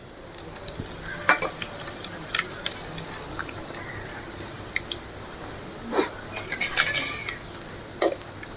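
Urad dal, mustard seeds, cinnamon and dried chilli fry in hot oil for a Tamil okra stir-fry, giving a low sizzle with scattered crackles and pops and a few metal scrapes and clinks of a spoon against the pan, close by, with no talk.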